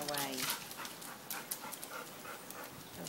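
A big, active Malamute pants in quick, breathy bursts close by, while people talk over it.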